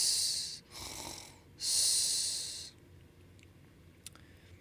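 A voice imitating snoring in a told children's story: two long, breathy, rasping snore sounds, close and fairly loud, followed by quiet with a faint click.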